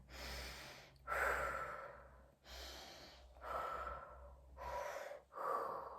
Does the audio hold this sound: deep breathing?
yes